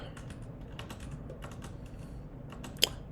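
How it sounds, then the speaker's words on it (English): Rapid typing on a new computer keyboard, a steady run of light key clicks with one sharper, louder keystroke near the end, close and alone with no talk. "I have a new keyboard, and so I'm trying to get used to using it"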